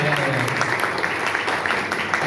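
Steady applause from a large audience at a multi-level marketing business seminar, dense and continuous clapping filling the room with faint voices mixed in.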